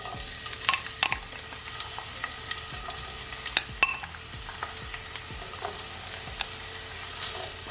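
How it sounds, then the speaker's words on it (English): Onion and garlic sautéing in olive oil in a pot, a soft steady sizzle broken by clinks and scrapes of a utensil stirring against the pot, fairly quiet with no talk. "you're just gonna allow it to saute just for a couple of seconds, not so long"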